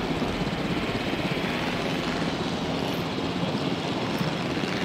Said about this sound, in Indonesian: Gue bisa ngendarain helikopter dong.